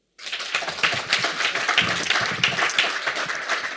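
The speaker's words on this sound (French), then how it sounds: "je vous demande de les applaudir" An audience in a hall bursts into sustained applause that starts abruptly and continues as a dense, steady wash of clapping.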